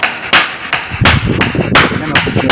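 A hammer drives nails into a plastered wall in a series of sharp, close, loud blows with an uneven rhythm, about seven strikes with small pauses between them.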